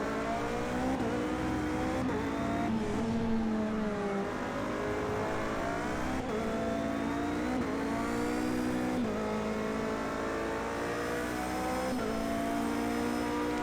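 Race car engines in a racing video game at Indianapolis, a loud continuous wail of several cars revving and shifting through gears, pitch sweeping up and down as they jostle for position, with no talk.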